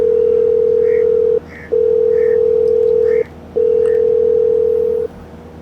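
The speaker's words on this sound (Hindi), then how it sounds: "डॉक्टर को फ़ोन लगा के बुला लेता हूँ घर पे।" A loud steady telephone tone repeats in long beeps separated by short gaps, sounding while a call is placed to a doctor from a home, with faint background sounds beneath.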